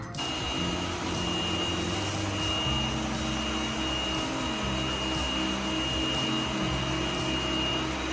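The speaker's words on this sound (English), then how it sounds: "Switch to vacuum and mopping mode." A steady mechanical whir and hum of a Yeedi Vac 2 Pro robot vacuum running continuously in vacuum-and-mop mode, close by, with faint tonal whines and no speech.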